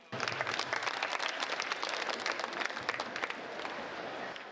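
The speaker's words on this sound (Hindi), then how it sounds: "आप लोग तालियां बजाएं" A live audience applauds steadily at a comedy song performance, a dense, even wash of many hands clapping at moderate distance with no talking over it.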